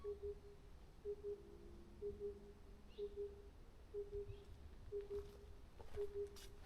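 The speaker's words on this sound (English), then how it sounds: "can you hear that bird?" A wild bird calling in mountain trees on a spring hike, a regular two-note call repeating about once a second, moderately distant against quiet woodland background.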